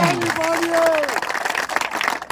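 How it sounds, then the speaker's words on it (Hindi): Applause breaks out from a crowd at a political gathering in Hansi, Haryana, a brisk wash of clapping that follows the tail of a speaking voice and carries to the end, near and moderately loud. "जोरदार तालियां"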